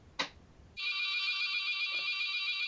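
A mobile phone rings indoors: a brief thump, then a steady, bright electronic ringtone tone sustained near the listener, with no speech over it.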